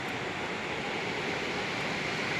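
Bendewadi waterfall near Lonavala, a steady, dense roar of falling water with no let-up, loud and close, and no voices.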